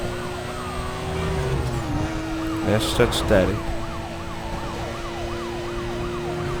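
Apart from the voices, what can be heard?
police car sirens in the video game Need for Speed Most Wanted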